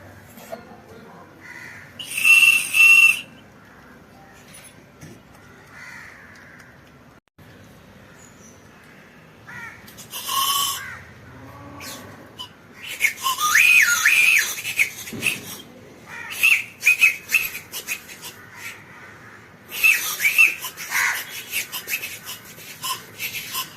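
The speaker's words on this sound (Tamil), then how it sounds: "இந்த பாத்தீங்களா, லாலிபாப் வித் விசில்." A whistle lollipop candy is blown in several short, shrill toots, scattered bursts over quiet stretches with faint rustling between them.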